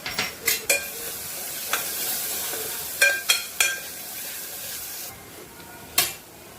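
Onions frying in a pan with turmeric, coriander-cumin powder and onion-garlic masala for misal, a steady sizzle broken by several sharp spoon scrapes and stirring clinks, close and with no talking.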